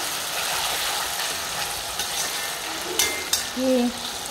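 Shredded potatoes for jhuri aloo frying crisp in a hot wok, giving a steady broadband sizzle with a few sharp scraping clicks near the end.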